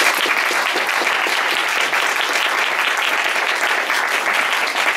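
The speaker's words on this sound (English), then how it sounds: "So let's give a big round of applause." Audience at a talk on healthcare technologies giving a big round of applause: dense, loud, sustained clapping from a full room, even and unbroken throughout.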